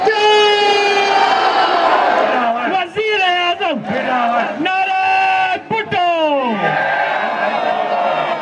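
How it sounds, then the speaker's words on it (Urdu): Loud crowd chanting party slogans for Prime Minister Bilawal at a Pakistan Peoples Party rally, rhythmic massed voices rising and falling continuously with shouted calls, close and dense throughout. "فضا میں وزیر اعظم بلاول کے نعرے بلند ہو گئے"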